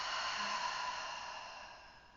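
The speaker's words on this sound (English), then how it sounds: "Exhale through the mouth." A heat-reducing yoga exhale through the open mouth, one steady breathy rush of air up close that fades slowly over a couple of seconds.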